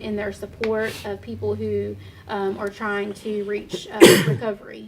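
A person gives one sharp, loud sneeze near the end of a county commissioners' public meeting, while someone speaks steadily before and around it.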